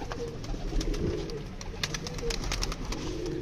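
Pigeons coo softly and repeatedly nearby, low throaty calls overlapping with light clicks and flutters in the background.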